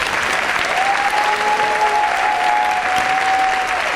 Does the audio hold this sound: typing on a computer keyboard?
no